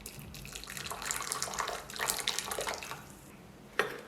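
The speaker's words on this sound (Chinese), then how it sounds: "倒入热水" Hot water poured into a bowl holding brown sugar and honey, a close splashing, gurgling stream that rises and falls in a few bursts before a final small splash.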